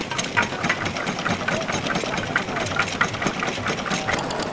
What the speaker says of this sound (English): stationary engines, they don't do much